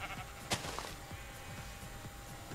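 Sheep bleat in Minecraft, a short nasal call near the start against a quiet game background.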